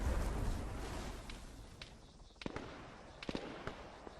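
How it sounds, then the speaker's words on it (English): Distant gunfire from friendly players in the Arma 3 military shooter, scattered sharp cracks and short bursts popping faintly over a low rumbling background, irregular and far off. "I can hear them shooting at something over here"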